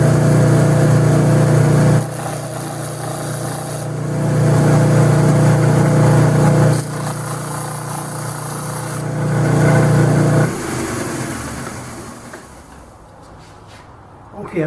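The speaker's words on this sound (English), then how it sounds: "I'm just going to touch these to my disc sander" A disc sander runs loudly with a steady motor hum while bamboo and purpleheart bracelets are pressed against it, the pitch dipping and rising in three long passes before the motor winds down.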